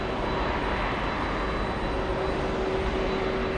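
KLM Boeing 767-400 departing, a constant jet engine roar with a thin steady whine, moderately loud and uninterrupted, no one talking.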